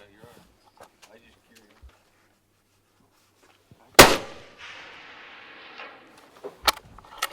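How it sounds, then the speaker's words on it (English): A single loud rifle shot rings out at a steel target during a rifle golf game, a sharp crack followed by a decaying roar and a faint ringing tail, with a couple of smaller knocks after; quiet murmurs of talk before it. "Go ahead and take your second shot."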